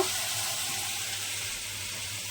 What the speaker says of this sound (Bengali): এদিকে আলু গাজর পেঁয়াজ কাঁচা লঙ্কা ভাজিতে বসিয়েছি